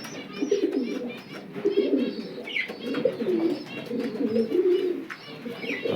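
Pigeons in a breeding loft coo continuously in low, throaty rolling phrases, close and steady, with occasional higher chirps and wing shuffles mixed in.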